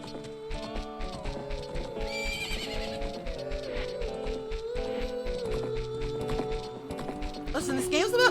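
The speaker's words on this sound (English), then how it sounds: "Horse." A horse gallops with clip-clop hooves and whinnies in the video game Ocarina of Time, heard up close over game music with someone talking throughout.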